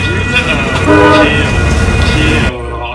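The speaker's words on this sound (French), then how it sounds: "le point de départ du California Zephyr, donc le train que je vais prendre pour traverser les États-Unis" A train at a Northern California rail station where the California Zephyr departs, with a loud sustained horn tone over the rumble of rail cars and a voice talking over it.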